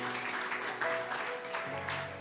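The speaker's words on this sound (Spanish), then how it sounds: "Un aplauso al Señor." A church congregation applauds with steady, fairly faint clapping throughout, without speech.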